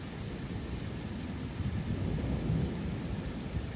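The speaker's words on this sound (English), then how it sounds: "I don't think it's ever stormed this hard in my life." Heavy rain pours steadily with deep rolling thunder rumbling beneath it, a dense, continuous storm roar that swells slightly in the middle, with no voices.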